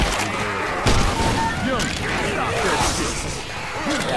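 A grenade launcher explosion in Left 4 Dead 2 lands as a loud booming blast amid dense game noise and gunfire, with speech-like game sounds running under it.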